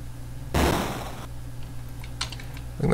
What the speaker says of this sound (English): So let's do the sound of Orat blowing up